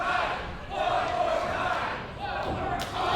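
A wrestling crowd at a live show cheers and roars in a steady, dense wash of noise, with a commentator's voice running over it.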